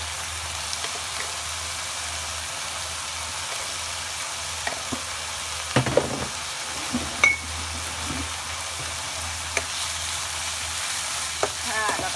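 Ginger chicken being stir-fried in a pan gives a steady low sizzle throughout, broken by a few short scrapes and clinks of the utensil around the middle and toward the end.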